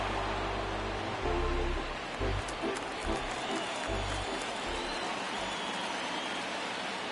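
A baseball stadium crowd at a Padres at Diamondbacks MLB game keeps up a steady, distant roar of cheering and noise throughout, with no clear break in the wash of sound.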